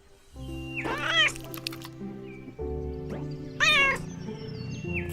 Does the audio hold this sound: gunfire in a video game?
no